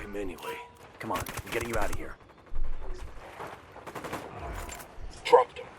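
Gunfire in the video game Ghost Recon Wildlands, scattered bursts of shots mixed under excited Turkish-speaking voices and game sounds.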